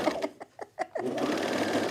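A sewing machine stitching flat felled seams on a button-down shirt runs in quick bursts of rhythmic needle clatter, pausing briefly, then settles into a continuous close-up whir.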